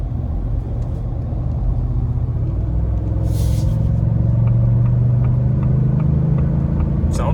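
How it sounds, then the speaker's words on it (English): A 2023 Ford F-350 Tremor with the 7.3 engine accelerating on a highway, giving a steady loud low rumble from inside the cab that builds gradually, with no talking. "I'm gonna do a little higher acceleration this time around, just to kind of see how it feels."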